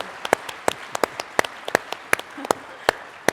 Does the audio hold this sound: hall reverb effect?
no